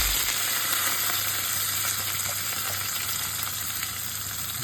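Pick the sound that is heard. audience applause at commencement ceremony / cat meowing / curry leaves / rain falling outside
curry leaves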